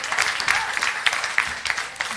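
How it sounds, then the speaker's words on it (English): A round of applause from a small audience at a women's equality leadership council meeting: scattered, moderately loud hand clapping that carries on steadily for a couple of seconds, with no talking over it. "Give her a round of applause."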